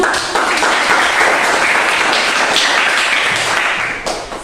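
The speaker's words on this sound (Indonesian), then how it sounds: "Tepuk tangan." Applause from a class of students after a group presentation of experiment results, a dense, steady wash of many hands clapping close by for about four seconds, thinning out near the end, with no talking.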